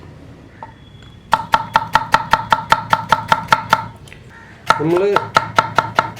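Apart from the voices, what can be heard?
chopping okra with a knife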